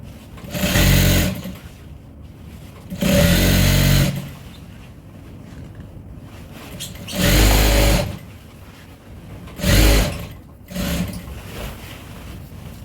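A sewing machine runs around the seam of an African print tote bag in four loud bursts of rapid stitching, separated by quieter pauses, close up.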